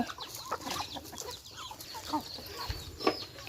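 Chickens and ducks in their coop cluck and call in short bursts, close by, over faint rustling.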